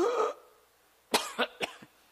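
A preacher in a Korean church gives a short series of about four sharp coughs, close and dry, following a brief voiced sound at the start and a moment of quiet.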